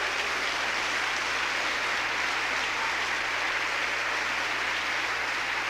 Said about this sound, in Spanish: Un aplauso, hermano, para el Señor.